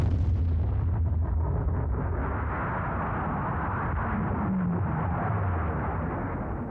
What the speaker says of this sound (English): The USSR detonated their first nuclear bomb.